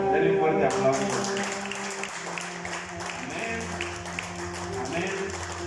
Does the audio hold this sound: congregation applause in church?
yes